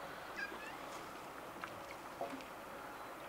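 A few faint, thin meows from a cat over a constant low rumble of outdoor background noise.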